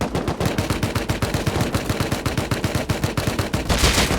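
Rapid automatic gunfire in the survival game Rust, a dense, even string of sharp shots firing at a fast steady rhythm, loud and close, with no speech.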